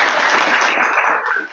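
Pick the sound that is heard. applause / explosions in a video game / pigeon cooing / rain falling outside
applause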